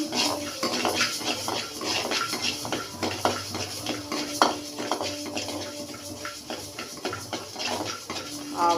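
Lentils and peanuts dry-roasting in a pan for a temple-style puliyodharai spice powder, with steady scraping and clinking of a spoon against metal as the mix is stirred continuously, close and fairly busy, no talking.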